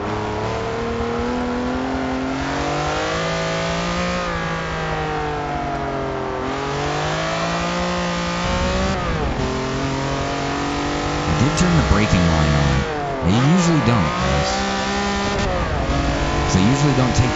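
A small V12 sports car engine revs and holds high, smooth tones in a midnight racing video game, rising and falling in pitch with shifts and bursts of acceleration, steady and loud with someone talking over it.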